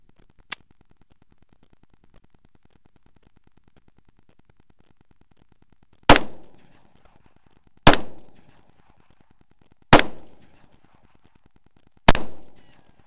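Four loud, sharp gunshots from a SCCY CPX-2 pistol, evenly spaced about two seconds apart, each with a short ringing decay, after a long quiet stretch broken by one faint click.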